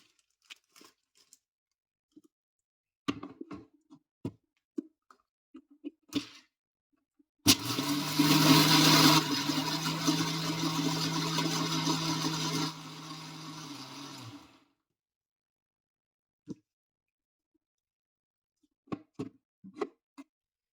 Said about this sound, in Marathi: नंतर याला आपण आता मिक्सरमध्ये बारीक करून घेऊ